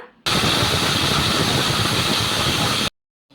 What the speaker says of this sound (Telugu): ఇలా కొన్ని నీళ్ళు అనేది వేసుకొని మిక్సీ అయితే పట్టేసుకోవాలి మెత్తగా